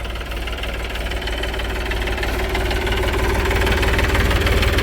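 A farm tractor idles in a field, its engine chugging with a steady low knocking rhythm that continues without a break, loud and close by.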